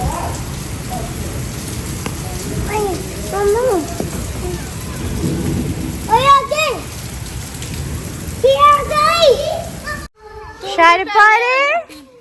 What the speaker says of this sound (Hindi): ये बारिशों का सिलसिला कम हो